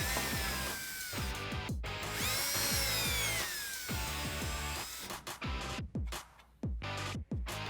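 A power drill bores new holes for Jeep Wrangler JK fender flares, with short bursts of whining motor, rising and falling in pitch, and clicks and clatter between runs, close and loud.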